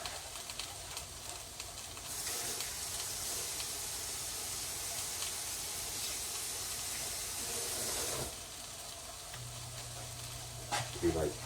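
Food frying in oil in a pan, a steady hiss and sizzle running through most of the clip, louder in the middle stretch, with faint clatter and a low hum near the end.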